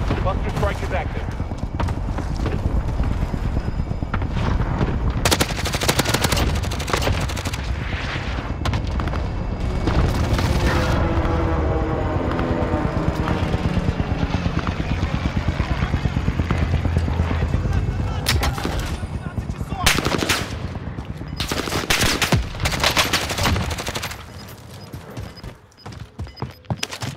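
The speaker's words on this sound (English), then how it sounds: "Airstrike target designated." Airstrike explosions and gunfire in a battle royale shooter, heavy booms and rattling shots rolling on and off over almost half a minute, with talk mixed in throughout.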